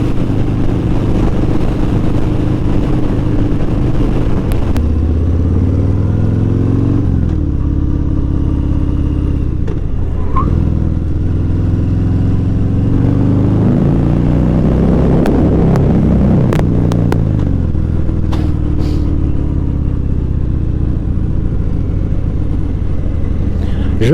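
A new motorcycle's engine running close to the microphone, loud and at times overloading it, with shifting revs and rising and falling pitch over about twenty-four seconds, plus occasional clatter and no talking.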